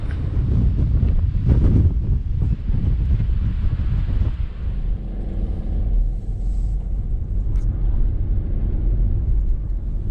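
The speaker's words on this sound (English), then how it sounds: "We're back in the windy bit." Strong wind on the coast of Anglesey, Wales, buffets the microphone in a steady, loud low roar with gusty surges, continuing throughout without any voices.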